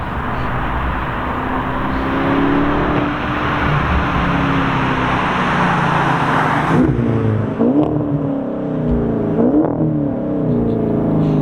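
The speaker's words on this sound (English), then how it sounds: "He's gonna do a flyby for us and get a couple downshifts." A powerful twin-turbo V8 car roars past at speed, its engine note swelling then dropping, followed by sharp blips of throttle as it downshifts into the distance.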